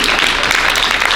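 Audience applause: a dense, steady wash of clapping from a crowd, loud and continuous with no voices standing out.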